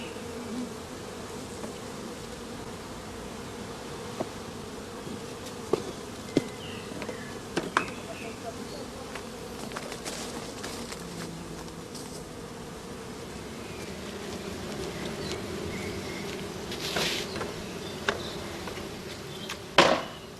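Honeybees from a thumped swarm box hum around the box in a steady, moderately close drone, with scattered faint taps and knocks and a sharper knock near the end.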